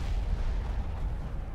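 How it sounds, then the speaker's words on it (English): Cannons booming in Skyrim, a low, muffled rumble of distant artillery fire rolling through a short stretch with no speech. "So they're using the cannons"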